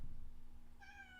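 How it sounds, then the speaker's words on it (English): A pet cat named Oinky gives a single short, clear meow near the end after a low rumbling stretch, close and fairly quiet. "I put him down, he starts meowing"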